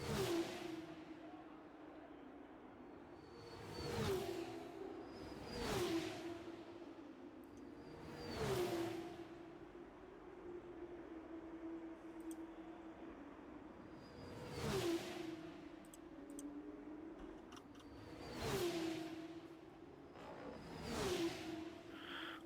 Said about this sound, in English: The cars sound absolutely brilliant.